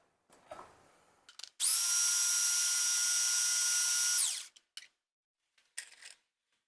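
A kitchen blender whirs steadily at high speed for about three seconds, blending tomatillos and lime into a salsa, with brief clatters of handling before and after.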